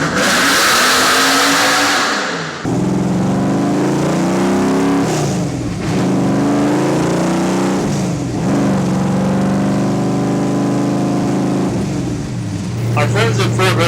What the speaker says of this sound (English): We threw the Cup engine in it, put the whole deal together, and we go out and drive it on the street,